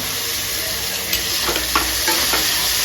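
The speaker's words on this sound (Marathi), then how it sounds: "आता टोमॅटो पण जरा सॉफ्ट होईपर्यंत परतून घेऊया" Tomato sautéing with golden brown onion in a pan crackles in a constant sizzle, with a few spatula scrapes and stirring taps close by.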